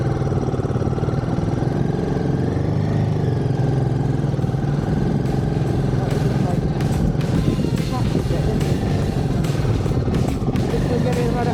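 A vehicle engine revving gently as it rolls downhill in a snowstorm at high altitude in India, a steady, loud mid-pitched drone close by with rattling and wind noise throughout.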